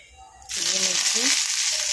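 Green chillies hit hot oil already holding cumin, mustard seeds, curry leaves and turmeric, setting off a sudden loud, hissing sizzle that continues steadily up close, while someone speaks briefly over it.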